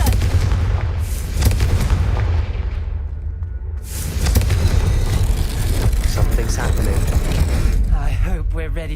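Heavy booming blasts and a continuous rumbling roar from the Confringo explosion spell in Hogwarts Legacy, loud and dense, with a voice mixed in among the game sounds.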